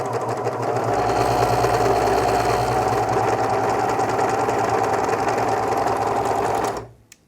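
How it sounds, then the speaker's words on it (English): A Babylock Protege serger runs steadily while stitching and trimming fabric, a loud continuous mechanical whir with a fast rhythmic chatter, close up, holding for about six seconds before stopping abruptly. "let's hit the pedal and see how this looks"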